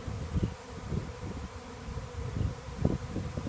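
A honey bee swarm in Forest Hill, Maryland fills the air with a dense, continuous low buzzing, close all around, with small swells as individual bees pass near.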